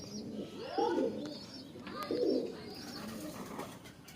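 Pigeon cooing in a loft in Howrah: two soft, rolling coos, each a rising then falling throaty call, come close together at moderate volume over quiet room noise.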